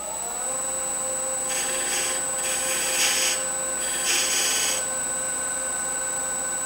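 Negative rake scraper cutting a small wooden box on a lathe, giving bursts of rasping scrape over a steady motor hum and a high whine, with several louder passes in the middle.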